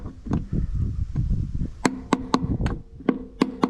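Hammer blows strike metal while knocking a bearing out of a washing machine for scrap: about eight sharp, ringing impacts spaced unevenly, close and loud, following a stretch of duller handling noise.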